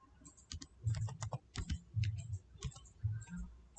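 Typing on a computer keyboard while searching for Windows optional features: a quick run of close, crisp key clicks in uneven bursts, with no voices.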